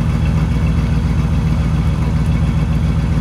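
A van engine idles with a slight misfire, pulling air back into the exhaust pipe; a loud, steady low rumble with a faint uneven pulse, close and continuous, with no voices.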